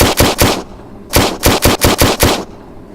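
Pistol shots fired from a 17-round magazine, close and loud: a quick burst of three shots, a pause, then a rapid string of about six more before the clip falls quiet.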